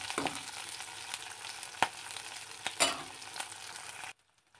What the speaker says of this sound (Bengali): এখানে তেলটা কিছু গরম হওয়ার পর আমি দিয়ে দিলাম রসুন, কাঁচা লঙ্কা দিয়ে আস্তে আস্তে নেড়ে চেড়ে